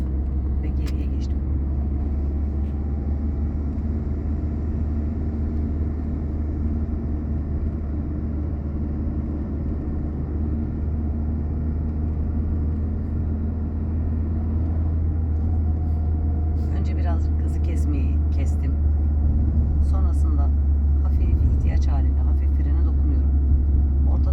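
A manual car drives slowly around a driving test course, its low engine rumble steady and continuous throughout, with a few faint clicks near the end.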